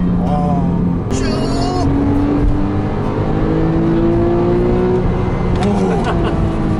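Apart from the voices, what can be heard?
Porsche naturally aspirated engine revving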